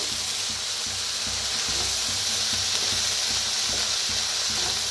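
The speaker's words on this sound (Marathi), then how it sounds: "गाजर बी आता मिक्स करून भाजूया।" Chopped carrots and other vegetables frying in a pan for momo filling, a loud dense sizzle and hiss with a rhythmic stirring scrape running throughout; no speech.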